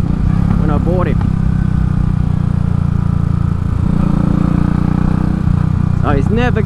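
Royal Enfield Classic 500 single-cylinder engine running steadily in a loud, continuous thumping drone, with someone speaking briefly over it at a few points.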